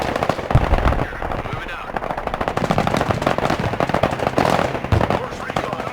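Dense machine-gun and rifle fire rattles through a Broken Arrow battle, rapid bursts overlapping with sharper single shots, loud and continuous, while a voice briefly speaks over it.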